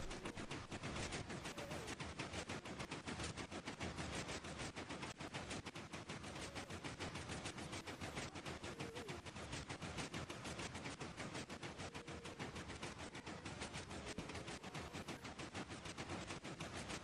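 TNT cannons firing on a mob-powered Minecraft flying machine: a dense, unbroken barrage of rapid explosive cracks, loud and continuous like machine-gun fire throughout.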